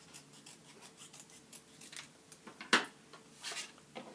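Scissors trim a paper card with soft, close snips and rustles, one sharper cut standing out near the middle.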